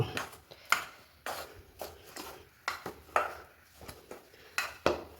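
A teaspoon mixing very hot beef curry in a dish, with a string of sharp metallic clinks and scrapes against the dish at an irregular rhythm, close and fairly soft.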